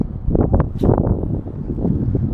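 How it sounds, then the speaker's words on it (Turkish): Gusty wind buffets the microphone in loud, uneven rumbles while fishing from a shore spot, with some rustling noise mixed in and no talking. "Şu an tek problemimiz herhalde rüzgar."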